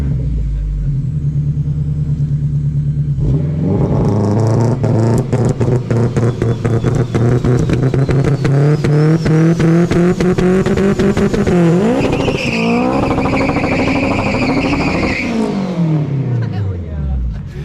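Engine of a car with a freshly installed fuel pump starts and revs hard, a loud, close roar with rising and falling pitch and raspy exhaust, running on for many seconds before settling.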